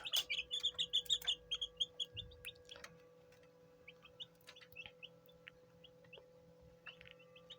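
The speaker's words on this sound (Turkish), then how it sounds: "Bunlar biraz kendilerini kurtarmış civcivler, büyümüş civcivler." Rapid high-pitched chirps from young birds open the clip in a quick burst, then thin out to scattered faint peeps over a steady background hum.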